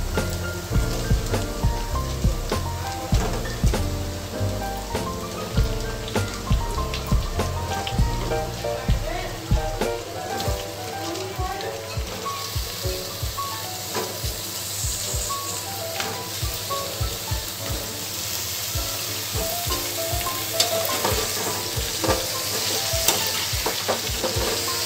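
Pumpkin goes into a fried masala paste in a pan, with clattering stirs against the pan over a steady rain-like sizzle that continues under occasional speech.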